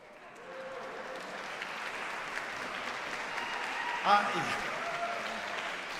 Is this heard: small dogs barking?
no